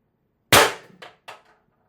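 A single sharp shot from a Beeman BP50 CO2 carbine air gun with a 16-inch barrel and expansion mod, loud and close, followed by two fainter metallic clicks or echoes within a second.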